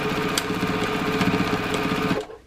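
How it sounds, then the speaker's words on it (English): A sewing machine stitches down quilt binding with a steady, close mechanical whir and fast rhythmic needle clatter, running evenly for about two seconds before stopping. "I'm just sort of going to sew that down to about there."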